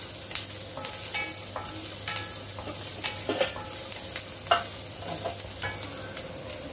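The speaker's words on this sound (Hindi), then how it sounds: "पहले इसको डाल के एक मिनट तक भून लेंगे" Chopped ginger frying in a pan for pav bhaji, a steady close sizzle with repeated spatula scrapes and clicks at an irregular rhythm, alone without talk.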